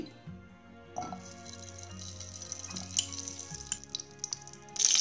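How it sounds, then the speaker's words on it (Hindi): Ghee going into a hot kadhai for jaggery besan laddu, soft sizzling and dripping sounds with a faint hum underneath, ending in a brighter burst of frying. "तो अब कढ़ाई गर्म हो चुकी है तो अब हम डालेंगे घी"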